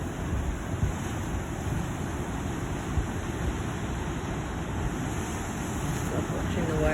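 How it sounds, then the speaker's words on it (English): Big waves roll in against a basalt lava rock shore, a steady, close wash of surf mixed with heavy wind buffeting the microphone. "Love watching the waves roll in."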